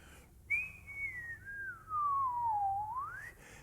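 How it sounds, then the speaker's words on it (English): A person whistles one long, easy tone as a relaxed airflow exercise, the pitch sliding smoothly down and then back up over about three seconds, close and clear against quiet room background. "It's the flow of the air, not a perfect whistle."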